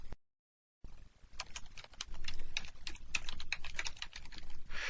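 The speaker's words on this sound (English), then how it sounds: "I'll just type it in really quickly." Rapid clicking of keys on a computer keyboard as code is entered into a console application, a steady close run of keystrokes after a brief silence, with no talking.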